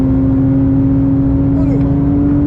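A Porsche GT3 992.1 on the Spa circuit holds a loud, even engine drone heard from the cockpit, with only slight change in pitch over the short stretch.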